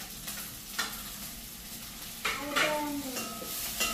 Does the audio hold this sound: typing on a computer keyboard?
no